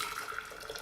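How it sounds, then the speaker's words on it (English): Water pouring into a drinking glass, a brief soft splashing trickle heard close and quiet. "So I've got some water here. Going to put it straight in my glass there."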